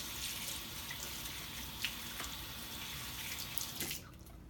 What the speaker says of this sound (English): In the background, I have a sink of hot soapy water.